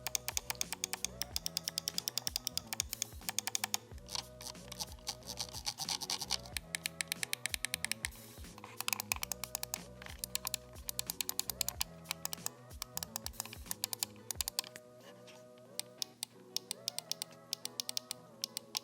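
A Steelseries Rival 3 Wireless mouse with Steelseries mechanical switches clicks repeatedly and busily, sharp close clicks mixed with scratchy rattling and a dense running bed of noise across the whole span.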